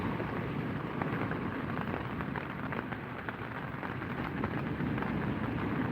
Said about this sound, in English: I'll see if the rain goes away